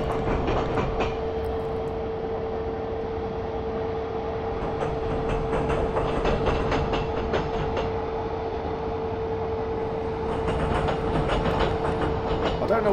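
Train running on rails in Train Simulator on the Strasbourg–Karlsruhe route, a DB Inter service: a steady, continuous rumble with a constant tone and faint rhythmic clicks of wheels over the track, heard alone without talk.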